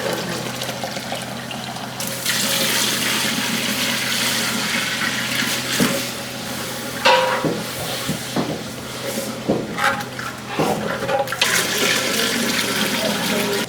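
Water mixed with stock splashes and pours into a cooking pot for jollof rice, a steady running-liquid hiss with a few clinks and knocks, fairly close.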